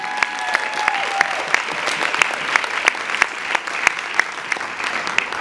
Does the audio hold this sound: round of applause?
yes